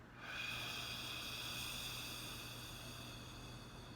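A steady, near breath exhaled through the mouth as part of a guided breathing exercise, a soft continuous airy hiss holding for several seconds without any talk.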